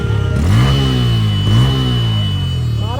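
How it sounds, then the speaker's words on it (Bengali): A Bajaj Pulsar N160 USD motorcycle engine revs up twice close by, each rise climbing sharply in pitch and falling back toward idle, with a third rev starting at the end. "আর এটার ইঞ্জিনের সাউন্ড ভাই"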